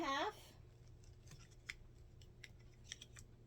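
Stacked 2.5-inch cotton fabric strips are cut in quiet, sparse snips and clicks, following a brief voice at the start.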